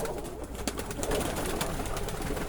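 Hamburg owl pigeons and other fancy pigeons in an aviary, giving soft continuous cooing and rustling close by, with scattered bird calls over a steady background hum.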